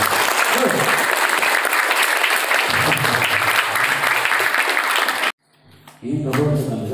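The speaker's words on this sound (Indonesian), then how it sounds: "tepuk tangan untuk kita semuanya hari ini" A roomful of santri applauds at a motivational seminar in a pesantren, the clapping sustained and loud for about five seconds before it cuts off, after which a voice speaks briefly.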